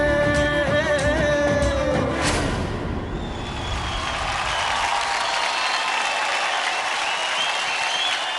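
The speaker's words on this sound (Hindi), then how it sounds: "जोरदार तालियां हो जाए वेंकटेश के लिए" A studio audience at the DID L'il Masters Season 3 dance show bursts into loud applause as the song fades. The clapping is dense and steady and fills the rest of the clip.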